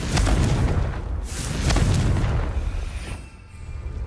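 A Confringo fire spell detonates in Hogwarts Legacy, giving deep, rumbling booms that swell twice and fade into a low, lingering roar, loud and close with no talk over it.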